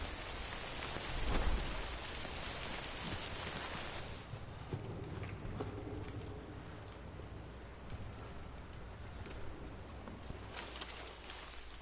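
Steady rain falls in the open world of the video game Death Stranding, a dense continuous hiss that swells loudly early on and then settles into a softer, even patter with faint low rumbles beneath.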